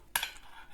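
A metal spoon clinks and scrapes against a dish while filling for a quick parmentier is spooned in, one bright clatter followed by softer scraping, close and quiet.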